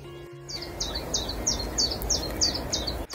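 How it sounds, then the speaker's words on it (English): Chiffchaff singing in an April hedgerow, a rhythmic series of about eight high, bright two-note chirps repeated steadily over a soft outdoor background, moderately close and clear. "The bird we can hear is a chiff chaff."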